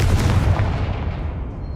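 A Confringo fire spell in the Hogwarts Legacy video game erupts as a loud, sustained explosive blast with a deep rumbling roar that fades slightly toward the end.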